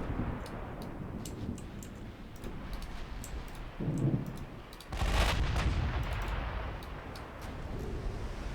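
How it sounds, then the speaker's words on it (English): A torpedo strike in a naval warfare game: a deep rumbling explosion bursts out midway over steady engine and water noise, with faint ticking clicks scattered across the top. "I hear a torpedo hit."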